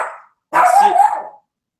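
A small pet dog gives one loud, close bark followed by a short fading tail of an earlier bark, with silence around it indoors.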